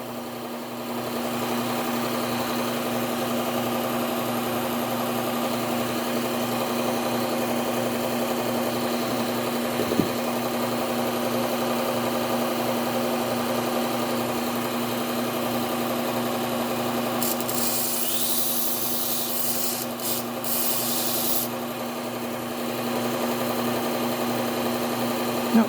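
Steel chef knife pressed against a running belt grinder, a steady mid-level grinding hiss with a continuous motor hum throughout, close and even, with no talking.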